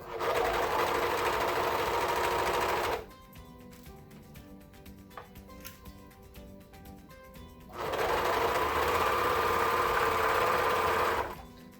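A serger stitches elastic onto a swimsuit edge in two loud, steady whirring runs, one at the start and one near the end, with a quieter pause of faint clicks and handling between them.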